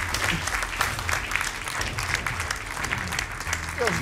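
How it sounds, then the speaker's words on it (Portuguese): A game show studio audience applauds the contestants with dense, steady clapping throughout, while a host's voice speaks briefly underneath near the end. "Um aplauso para eles!"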